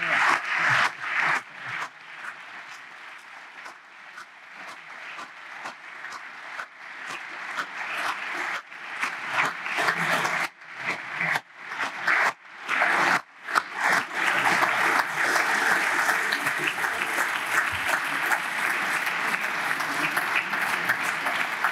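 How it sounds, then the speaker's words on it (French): An audience at a lecture on nuclear intimidation and strategy breaks into applause, starting as scattered claps and building into full, sustained clapping that stays strong to the end. "je vous prie d'applaudir"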